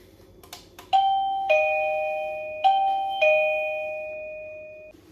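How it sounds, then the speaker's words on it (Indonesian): A doorbell rings out clearly with two ding-dong chimes, each pair of bright tones ringing and slowly fading, after a few faint knocks. "Kita nyalain bel."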